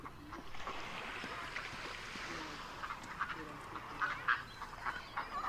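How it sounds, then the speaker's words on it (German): Ducks and other pond birds on a lake, quacking and honking in a steady busy chorus with scattered splashes, louder calls bunching toward the end as birds land, take off and squabble over scraps of food. "Mit dem Quaken und Platschen, das die ganze Zeit über da ist."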